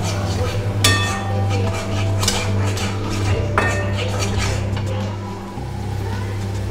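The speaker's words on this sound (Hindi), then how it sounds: "और ये कर्ड को स्टायर करना है" Curd is stirred in a pan for a Bengali fish curry, with a spoon clinking and scraping against the metal in a few sharp knocks over a low, steady cooking hum.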